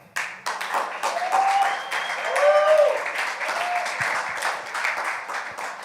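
Audience applause for Black women at a live spoken-word event, a dense wash of clapping that swells through the middle and stays steady to the end, with a few voices cheering over it.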